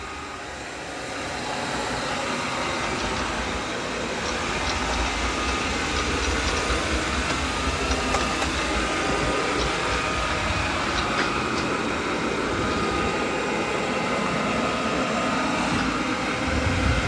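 Roomba 105 Combo robot vacuum on its second mopping pass, giving off a steady, continuous motor and brush hum with a low rumble that holds at an even level throughout.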